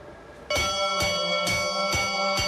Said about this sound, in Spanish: el centro histórico de Cuenca despierta con el repique de sus campanas